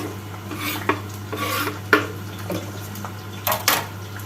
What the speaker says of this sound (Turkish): tenceremizin içine soğanımızı alalım arkadaşlar.